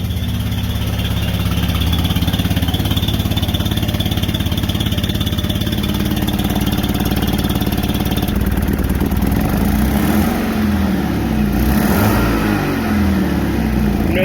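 A 2012 Chevy Malibu with a blown engine runs steadily up close, a continuous rough drone that swells briefly as it revs near the end, with no talking.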